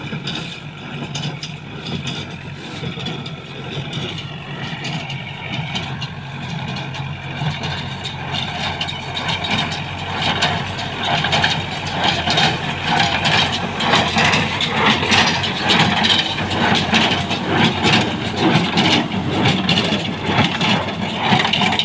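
A straw baler machine runs steadily nearby, a continuous rumbling engine drone with rattling mechanical noise that grows louder partway through.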